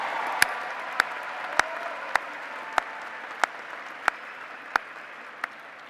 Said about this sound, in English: Let us applaud these candidates from the College of Natural Resources and Environment.